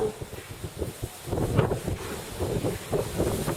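Gusty wind buffets the microphone on an apartment terrace with a steady, rumbling roar that swells and dips throughout; no voices.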